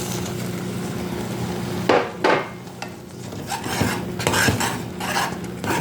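Cornmeal-style coxinha dough being stirred in a pot after flour is added, heard as steady scraping and rubbing of a utensil against the pot, with soft knocks and thuds as the thick mass is worked.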